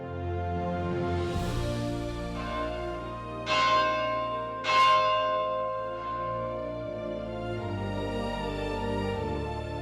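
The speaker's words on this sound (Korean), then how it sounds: "세상을 향해 울려 퍼진 종소리는 빛이 되어 더 멀리 번져갔습니다." Church bell of Okbong Catholic Church in Jinju ringing: several rich, sustained metallic strikes with long overlapping decays, two louder strokes standing out midway, resonant and fairly close.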